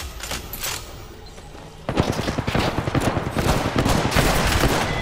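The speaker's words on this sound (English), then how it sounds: "I headshot him with the fucking 30-30" Rapid gunfire from a 30-30 rifle and other weapons crackles in Apex Legends, sparse at first, then a dense, sustained burst of shots close by.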